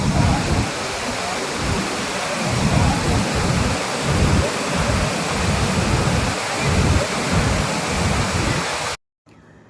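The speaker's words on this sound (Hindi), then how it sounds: "जब लगभग 1312 किलोमीटर लंबी नर्मदा नदी इस मार्बल रॉक से घिरे हुए संकरे स्थान पर 50 फुट की ऊंचाई से गिरती है" The Narmada River plunges about 50 feet through a narrow gorge of marble rock at Dhuandhar Falls, Bhedaghat, Jabalpur, making a loud, continuous roaring rush with slow surging swells, close and dominant, before cutting off abruptly near the end.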